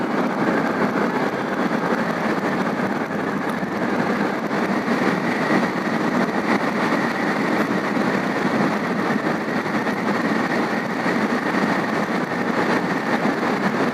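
A motorbike rides along the NH 72 highway between Haridwar and Dehradun, its engine droning steadily with constant wind rush, loud and unbroken throughout.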